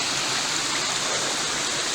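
A stream of running water in a rainy Mark Twain National Forest makes a steady, dense rushing hiss, loud and unbroken without variation or talking.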